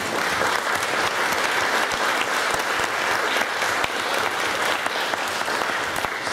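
An audience at a commemorative event applauds warmly, a full, continuous stretch of many hands clapping at steady strength, with a faint murmur of voices underneath.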